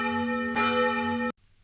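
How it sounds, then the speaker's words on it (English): A loud, sustained bell rings with rich ringing overtones, swelling once midway with a second strike, then cuts off abruptly into near silence. "The sound of the bell will kill me!"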